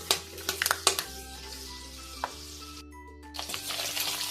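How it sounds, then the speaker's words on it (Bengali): Peanuts frying in oil in a pan for vegetable chop filling, with a steady sizzle, scattered clinks of a utensil stirring early on and a brief quiet gap near the end. "এই বাদামটা ভাজা হচ্ছে"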